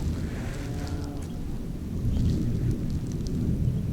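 Rain falls outdoors during a bow hunt for a Missouri buck, with a low, rolling thunder rumble beneath the steady patter that swells slightly toward the end.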